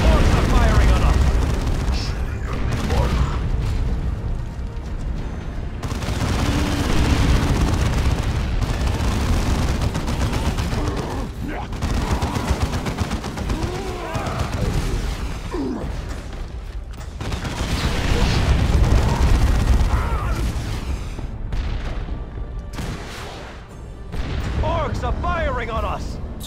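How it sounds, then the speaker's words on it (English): Orc gunfire and explosions in the Dawn of War II: Chaos Rising video game, a dense, loud barrage of booms and rattling shots that swells and fades in waves over about half a minute, with someone talking over it. "Orcs are firing on us"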